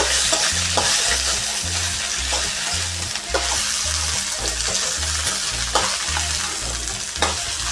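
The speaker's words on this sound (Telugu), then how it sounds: "ఆయిల్ వేడెక్కిన తర్వాత వెండికాయలను వేసుకుంటున్నాను వేసుకొని వన్ టైం కలపాలి" Okra (bhindi) fries in a spoonful of hot oil, loud continuous sizzling close up, broken by repeated scraping stirs of a spatula in the pan, with no talking.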